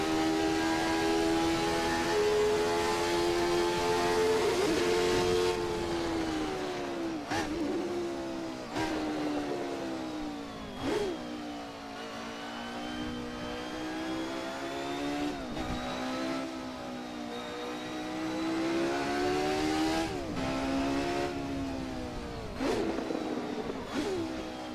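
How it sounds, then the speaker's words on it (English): A Jordan 191 Ford V8 in a racing sim revs steadily and loudly at close range, its tone rising and falling through repeated gear changes with sharp shift breaks during a warm-up run. "And the Ford V8 comes to life."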